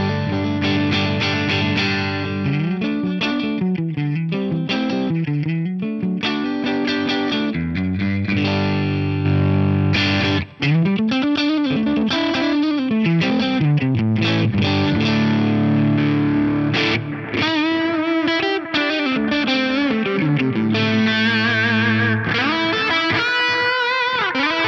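Fender Stratocaster played through a Line 6 HX Stomp on its US Dripman clean amp model with effects snapshots: a loud, continuous run of chords and melodic lines with some grit and modulation, no talking.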